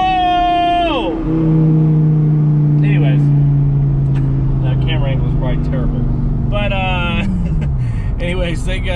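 A Dodge Viper sports car's engine revs up loudly from inside the cabin, drops in pitch through a gear shift, then climbs again, with someone talking over the engine note.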